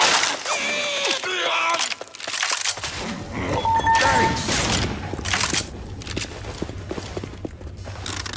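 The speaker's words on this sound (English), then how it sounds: "Throw the pipe bomb!" A pipe bomb going off in Left 4 Dead 2 on the Riptide map, amid a frantic zombie fight: a loud burst and crackle under heavy gunfire, scattered impacts and players shouting.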